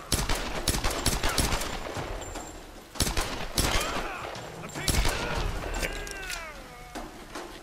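Gunfire aimed at enemies in the Tomb Raider video game, several sharp shots spread across the span with game effects and a voice speaking between them.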